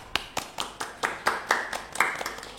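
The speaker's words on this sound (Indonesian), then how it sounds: "Kita kasih tepuk tangan dulu buat mereka." A small group applauds a winning school Paskibra flag-ceremony team at SMK Negeri 6 Surabaya, about ten crisp, evenly spaced claps in a brisk steady rhythm, close and clear with no talking.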